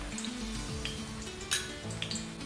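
Dalda ghee and coconut oil heating in a pressure cooker give a steady close sizzle and crackle, with a few brief spatters and a faint metallic scrape.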